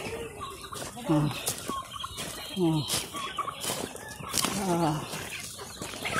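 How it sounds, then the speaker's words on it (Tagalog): Several chickens cluck and call nearby in short bursts over steady outdoor background noise, with brief voices mixed in. "Ay, mga manok bay."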